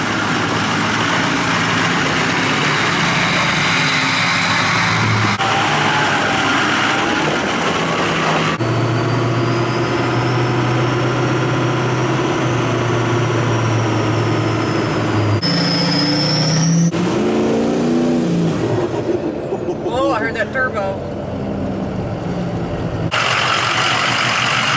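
A 2007 LBZ Duramax diesel truck engine runs and drives, its heavy low rumble shifting through idle, revving and acceleration, with a whine rising and falling and changing road noise, no talk.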